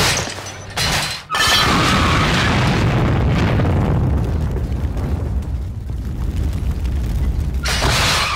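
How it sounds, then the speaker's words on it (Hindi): Loud explosions of cars being blown up like firecrackers in an action movie scene, a big boom followed by a sustained roaring rumble of debris and fire, with another blast near the end. "देखो तो पटाखों की तरह गाड़ियों को कैसे उड़ा रही है।"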